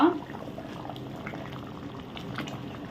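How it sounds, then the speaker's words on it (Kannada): Mangalore-style mutton curry with potatoes bubbling at a steady boil in a pot, a continuous close, moderately loud churning simmer with soft popping bursts throughout, no talking. "ಚೆನ್ನಾಗಿ ಕುದಿ ಬರ್ತಾ ಉಂಟು"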